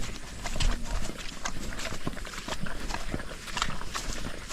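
A carabao (water buffalo) walks, its hooves clopping in an irregular series of soft, fairly faint thuds against outdoor background noise.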